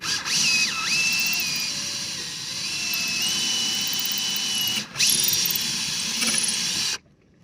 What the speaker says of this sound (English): it's just a case of drilling straight through